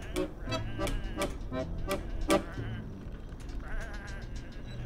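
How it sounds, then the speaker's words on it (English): Sheep in the Whateverland video game give a run of short, close, nasal bleats, then a more sustained bleat trailing off toward the end. "these are just sheep"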